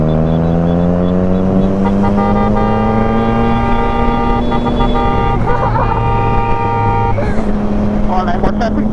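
A vehicle horn blares in long, sustained tones during a highway motorcycle ride on a Yamaha R25 and a Kawasaki Z650. The horn is loud and close and shifts pitch slightly, with engine and wind noise underneath.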